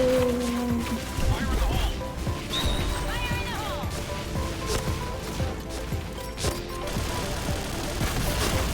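Shotgun fire in a video game: sharp, cracking blasts and impacts repeat irregularly over a busy combat din, with a voice talking over the action.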